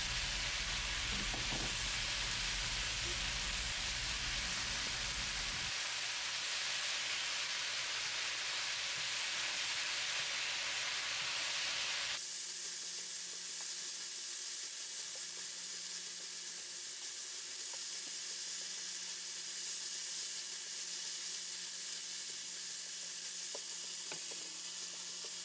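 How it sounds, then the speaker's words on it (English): Vegetables and meat sautéing in fried black bean sauce for jajangmyeon, a steady loud sizzle from a hot pan that drops in intensity partway through, then continues as a quieter crackle, with no talking. "I'm going to add our fried black bean sauce and saute everything for a couple minutes"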